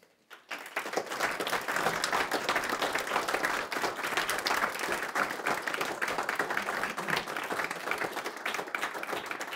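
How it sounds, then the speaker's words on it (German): A lecture audience bursts into sustained applause, dense even clapping that starts abruptly and holds at full strength throughout, close and loud, with no speech. "Applaus"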